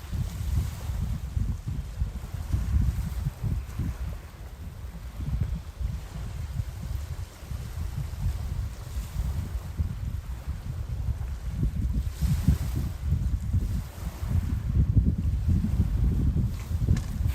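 A distant boat, probably a trawler, rumbles low and continuously out at sea off Gosport, mixed with wind buffeting the microphone and faint wash of waves throughout.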